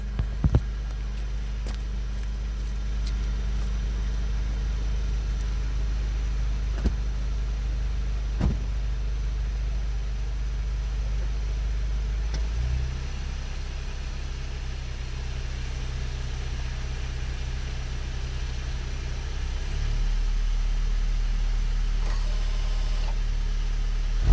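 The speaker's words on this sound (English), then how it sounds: "Now take a listen at the launch control sound." A VW Golf 8 GTI engine idles steadily with a deep low rumble in launch control mode, the pitch stepping up and holding higher for a stretch before dropping back.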